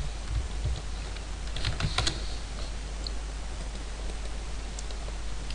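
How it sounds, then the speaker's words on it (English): Fast, steady clatter of keys on a computer keyboard while entering a search for Hamachi, close and fairly quiet over a low hum, with a few louder key strikes in bursts. "Then type in hamachi."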